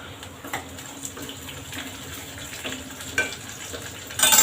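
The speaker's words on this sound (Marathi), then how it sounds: "आता याच्यात आपल्याला 2 लाल मिरच्या तोडून टाकायच्या आहेत" Two broken dried red chillies dropped into hot oil for South Indian sambar, giving a steady close sizzle and frying crackle with a few stirring knocks, ending in a louder burst.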